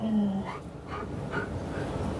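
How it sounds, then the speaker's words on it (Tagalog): A dog at home whines and pants with short yelping vocal bursts over steady background noise, close to the listener. "Huwag nang tumahol-tahol."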